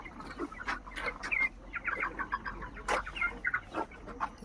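Several chickens cluck in irregular bursts close by, with soft rustling between calls and no voices. The birds are 31 days old and have a cold.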